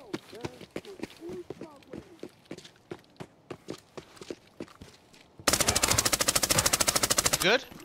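Gunfire in the shooter Arena Breakout Infinite: scattered single shots and footsteps, then a loud, rapid automatic burst lasting about two seconds, with players talking over parts of it.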